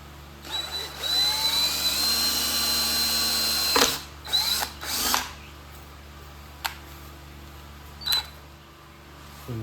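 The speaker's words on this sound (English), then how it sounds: "I'm going to use a 1/8 inch bit for the initial pilot hole" A cordless drill with a 1/8 inch bit bores a pilot hole in the cab of a Huayee HY14C mini excavator, a rising motor whine for a few seconds followed by several short bursts and brief clicks.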